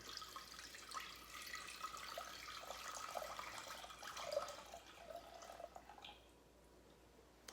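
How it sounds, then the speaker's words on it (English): Unsalted chicken stock pours steadily into a cooking pot in a home kitchen, a faint continuous liquid splash that trails off near the end. "you want to take this and pour it right into this pot over a medium heat"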